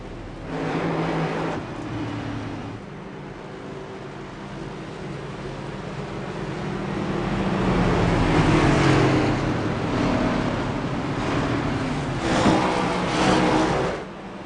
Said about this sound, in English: So everybody should be starting on our formation lap right now.